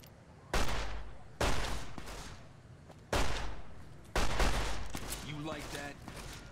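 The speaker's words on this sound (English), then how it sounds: "Dude, what are you shooting at?" Gunfire in the video game Fallout: New Vegas, four sharp loud shots at irregular intervals with decaying echoes, and game chatter or voices in between.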